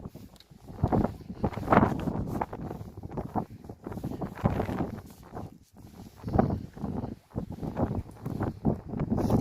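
Gusty wind buffeting a microphone on a pier, rising and falling in heavy rumbling bursts with no voices.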